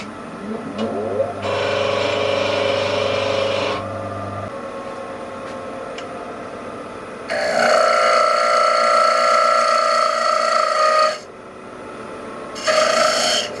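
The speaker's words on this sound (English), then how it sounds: "Parting tool's not sharp enough, so we'll give it a quick sharpen." A woodturning parting tool, used for turning a pewter bowl, being sharpened on a grinder, heard as loud, close rasping and whining grinding in two long bursts and a short third, with the motor hum between.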